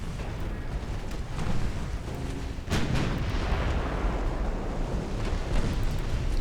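A heavy cruiser blowing apart in the naval battle game Ultimate Admiral: Dreadnoughts, heard as a loud, continuous roar of rumbling blasts with a sharp booming surge midway, thick and sustained throughout.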